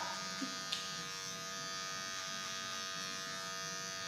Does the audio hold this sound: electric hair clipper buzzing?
yes